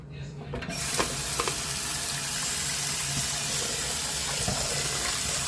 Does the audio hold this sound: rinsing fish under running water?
yes